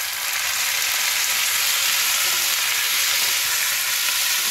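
Onion and tomato frying in a pan for a tomato onion garlic chutney, giving a loud, steady, continuous sizzle close up with no speech.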